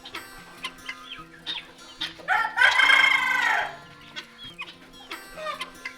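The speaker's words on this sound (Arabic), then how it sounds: "واللي وراهم دول فراخ فيتنامي يا جماعة" Vietnamese chickens clucking nearby, with one loud drawn-out crow rising in the middle, then scattered clucks and calls continuing around it.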